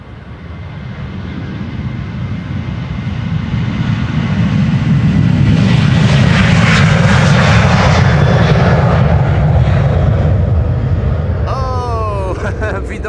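Ryanair Boeing 737 jet taking off from Amsterdam Schiphol for Dublin, its engine roar building from moderate to a loud, full thunder and staying strong, with a voice talking near the end.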